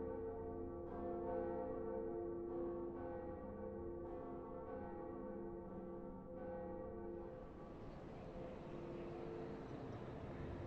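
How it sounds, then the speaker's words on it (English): Deep, resonant tolling of a large bell in the video game Dark Souls, slow repeated strikes with a long humming decay, giving way to a broad airy rumble near the end, with no voices. "Was that the second bell?"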